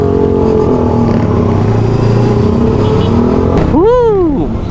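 A big bike motorcycle engine runs loud and close on its first test ride, a steady throaty drone that swells into a sharp rising-and-falling rev near the end, with a voice briefly over it.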